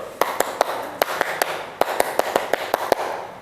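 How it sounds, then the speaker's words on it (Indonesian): A group performs the 'tepuk konsentrasi' concentration clapping routine: crisp, close hand claps in a patterned rhythm of short bursts with brief pauses, over a faint room hum and no talking. "Tepuk konsentrasi dulu"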